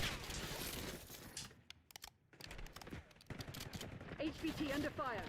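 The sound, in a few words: gunfire in the video game Black Ops 6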